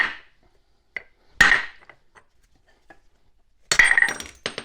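A 2-pound hammer wrapped in electrical tape strikes a power steering pump part from a 1998-2002 Honda Accord 4-cylinder: a few sharp, close knocks separated by silence, with a louder double blow near the end.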